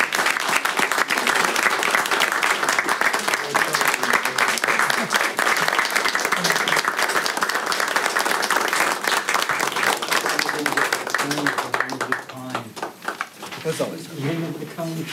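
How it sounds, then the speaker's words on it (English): Loud, sustained applause fills a county commissioners meeting for about twelve seconds, then thins out into scattered claps as a few voices murmur. "I think he deserves a round of applause."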